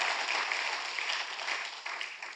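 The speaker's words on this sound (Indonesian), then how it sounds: "tepuk tangannya pula yang paling meriah buat Tuhan" A church congregation claps together during a sermon, a steady even patter of many hands, moderately faint and continuous, with no voices over it.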